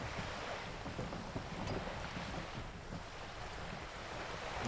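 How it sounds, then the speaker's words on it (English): Wind gusts and a sail flapping in the video game Disco Elysium, a steady low rushing roar with soft irregular fluttering throughout, no voices. "The wind flaps the sail above her."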